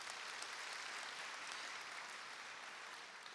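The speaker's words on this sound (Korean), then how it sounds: "우리 동산의 가족이 되신 분들께 마음을 담아 박수로 환영하도록 하겠습니다" A church congregation claps in welcome for new members during a Sunday morning service, a steady wash of applause with no voices, fairly faint and gently fading toward the end.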